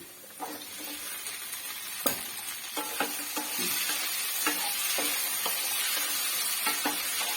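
Jackfruit seeds, cooked with chili powder, turmeric and salt, go into sautéed onions in a pan, giving a loud close sizzle with a sharp clatter and repeated rhythmic scrapes of stirring.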